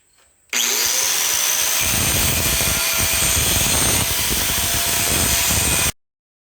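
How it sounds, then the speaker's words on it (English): An angle grinder fitted with a grinding wheel grinds a Hercules motor mount for a Cletrac E-62 tractor, producing a loud, steady, continuous whine that runs for several seconds and then cuts off abruptly. "We'll switch to the other grinder here. Got the grinding wheel on it."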